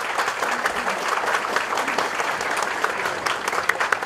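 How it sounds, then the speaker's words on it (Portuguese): A crowd applauds at a museum inauguration, with dense, continuous hand clapping at moderate loudness throughout the short stretch. "uma salva de palmas"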